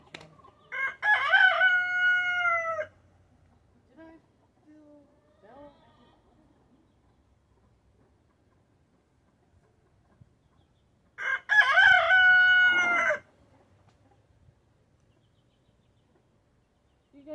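Two loud rooster crows ring out about ten seconds apart, with faint scattered clucking in the quiet between them.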